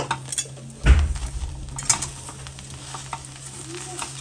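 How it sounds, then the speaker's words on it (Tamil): Grated coconut and jaggery stirred together in a pan over heat for kozhukattai filling, a sharp spoon knock against the pan followed by soft scraping and light sizzling, close and quiet, without talk. "இதை நான் அதில் சேர்த்துட்டு கிளறிக்கிறேன்."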